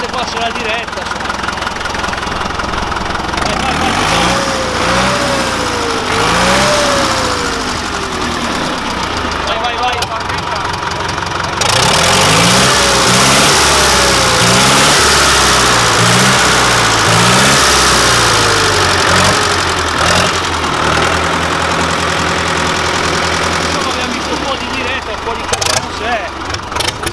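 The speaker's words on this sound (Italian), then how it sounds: "faccio vedere questo Saturno della Same, mi dai un po' di gas che lo facciamo sentire" A SAME Saturno 80 tractor engine idles and revs up and down repeatedly in rising and falling surges, loud and close, with people talking over the engine.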